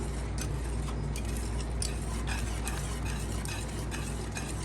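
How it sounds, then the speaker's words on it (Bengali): Jareesh cooked with chicken stirred in a large pot, a soft continuous scraping and bubbling with faint ticks of the spoon against the side, low and steady throughout. "আরও নাড়তে আছে এরকম নাড়তে নাড়তে আরও অনেক নাড়তে হবে"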